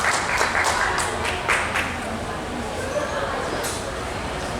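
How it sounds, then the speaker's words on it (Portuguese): A standing audience applauds writer Luiz Vilela at a literary tribute in Minas Gerais, steady dense clapping with a few sharper claps up front, fading slightly toward the end. "Luiz Vilela, é para vocês esses aplausos."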